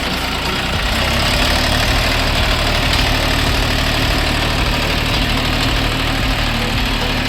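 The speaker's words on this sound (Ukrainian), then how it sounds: "Даний тракторець іде трьохциліндровий, повнопривідний, редукторний міст." A small three-cylinder, four-wheel-drive mini tractor engine idles steadily nearby, a loud, continuous low chugging rumble with no voices.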